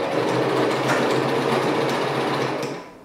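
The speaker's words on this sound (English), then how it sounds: "And then I'm going to sew a line to connect these two together." A sewing machine runs steadily, stitching a line that joins two fabric bow pieces. Its rapid, even mechanical whir is close and loud, then eases off at the end.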